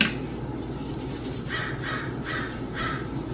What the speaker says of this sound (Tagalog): Ang ingay ng mga ibon sa labas.